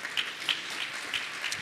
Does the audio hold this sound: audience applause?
yes